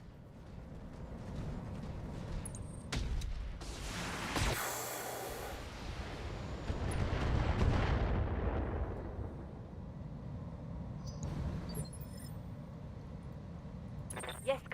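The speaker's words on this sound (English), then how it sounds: "we're going to continue to just fire AC-20 rounds into their backs" Heavy AC-20 autocannon rounds fire in the BattleTech game, heard as booming explosive blasts around four and seven seconds over a constant mechanical rumble, with voices talking through much of it.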